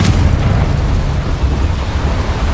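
Confringo fire spell exploding in the video game Hogwarts Legacy, a loud sustained rumbling blast with a sharp onset, deep booming low end throughout, no voices.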